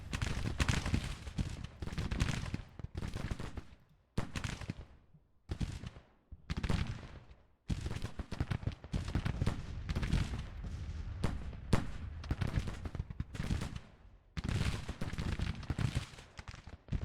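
Rifle volleys crack out in dense, ragged bursts from infantry in a Civil War strategy game, Grand Tactician, with repeated loud clusters of shots separated by brief pauses.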